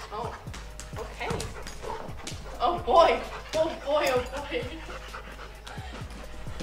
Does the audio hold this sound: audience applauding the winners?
no